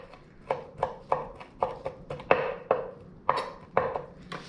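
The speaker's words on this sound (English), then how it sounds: "I will mince them very fine" Anchovy fillets minced very fine with a knife on a cutting board: about a dozen crisp, evenly paced chops, close and clear, with no voices.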